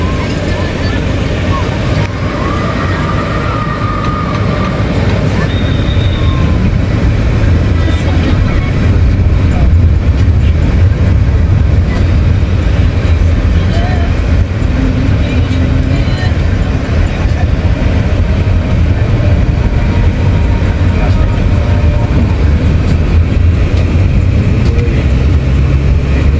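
A steady, loud rumble of an elevated MRT train passing overhead, blended with constant city traffic noise, with no clear break.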